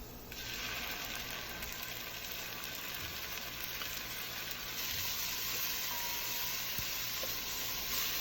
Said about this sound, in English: Stir frying all these ingredients together, and the smells are just amazing.